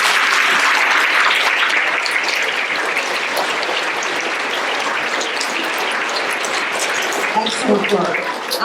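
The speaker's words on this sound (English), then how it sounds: "All right, another round of applause." At a school awards ceremony, an audience gives another round of applause for honor-roll students, dense even clapping that carries on steadily and thins slightly near the end, where a voice briefly begins to speak.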